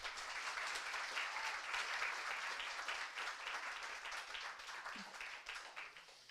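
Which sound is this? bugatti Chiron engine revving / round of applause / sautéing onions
round of applause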